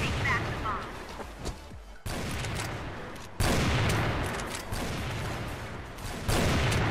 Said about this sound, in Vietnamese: Đó, các ông thấy tôi bắn tay trái nào?